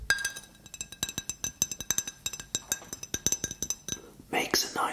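A thick glass Monin syrup bottle clinks in a rapid series of bright, close taps, followed by a brief burst of louder handling at the end.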